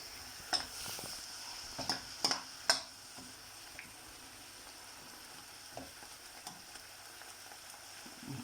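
Chicken and prawns fry in black bean sauce with a soft, steady sizzle, broken early on by several sharp scrapes and clinks of stirring in the pan, then quieter bubbling with occasional taps, close and without voices.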